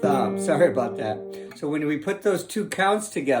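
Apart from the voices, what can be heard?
No distinct noise like a dog, phone or traffic.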